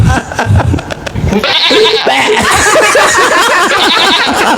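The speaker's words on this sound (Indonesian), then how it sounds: "Sama suara kambing" Goat bleating loudly and repeatedly in close succession, the wavering cries running almost continuously after a brief lower-pitched opening.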